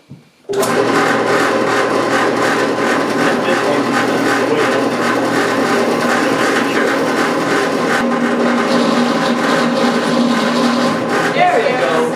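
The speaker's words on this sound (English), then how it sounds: "Let's drill a hole." Power drill boring a hole while building a rotary engine stand adapter in a workshop, a steady loud whirring grind running continuously and close for several seconds.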